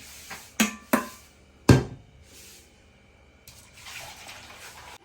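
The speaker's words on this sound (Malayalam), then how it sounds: "ബാക്കിയുള്ള ഇളനീര് വെള്ളത്തേക്ക് തന്നെ ഒഴിച്ചിട്ടോ ഒന്ന് ആറ്റി കൊടുക്കാം ഒന്ന് മിക്സ് ആവാൻ വേണ്ടിയിട്ട്" Tender coconut water being poured back and forth between vessels to mix a juice: a few sharp knocks, then a soft, steady splashing pour, close and moderately quiet.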